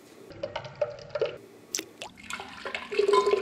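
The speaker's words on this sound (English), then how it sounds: "Pour hot water in the preheated chamber, press a lever down, and make an espresso." A manual lever espresso maker pulls an espresso shot after hot water goes into the preheated chamber, giving close, irregular dripping and trickling liquid sounds with soft clicks and short bursts throughout.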